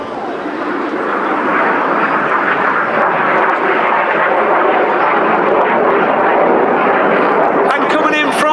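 Red Arrows display jets roar past at an airshow during the Synchro Heart manoeuvre, a loud sustained engine rush swelling and holding across the sky, with a commentator's voice over it.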